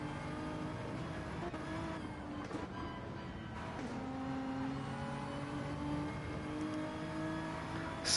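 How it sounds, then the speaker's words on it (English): Game race car engine holding a steady, fairly quiet drone with gear-change dips and pitch sweeps as it revs through corners during an endurance race at Watkins Glen. "Oh, revving the car."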